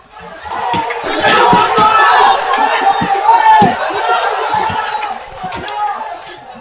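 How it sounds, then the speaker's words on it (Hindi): A rioting crowd on the attack, dense shouting and chatter from many voices with scattered slaps and thuds, loud and continuous throughout. "सामने दंगाई भीड़ अटैक कर रही है लेकिन पुलिस वाले तमाशा देख रहे हैं।"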